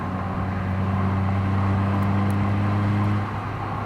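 A 2007 Honda Fit GD3 climbs uphill in fifth gear, its engine droning in a steady low hum under road noise that eases slightly near the end.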